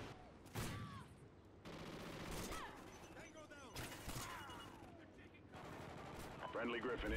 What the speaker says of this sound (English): let me see if I can't shoot this guy in the back